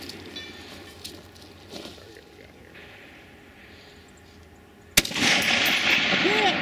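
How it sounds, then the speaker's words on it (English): A precision rifle fires one sharp, loud shot at a practical sniper match, breaking after several seconds of quiet outdoor ambience and leaving a lingering echo and noise behind. "Can I shoot the same target? Yeah, shoot the same target."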